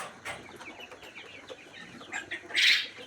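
Broiler chickens in a poultry farm shed cluck and chatter in quick, uneven bursts, one louder squawk rising near the end, with no talk over the flock.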